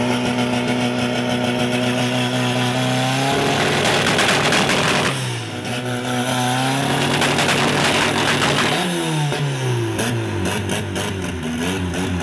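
A Volkswagen Gol G3 four-door revs loudly and repeatedly at a car meet in Curitiba, Brazil, pitch climbing and dropping through several accelerations, close by and without talk.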